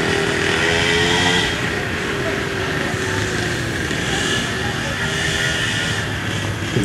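A motorbike doing laps passes nearby, a rough fluctuating engine buzz that swells and fades over steady outdoor background noise, with faint voices underneath.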